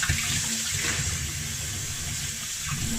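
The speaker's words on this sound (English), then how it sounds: "I'm just gonna wash my hands." Tap water runs steadily into a kitchen sink as hands are washed before folding sourdough bread dough, a close, continuous splashing hiss without a break.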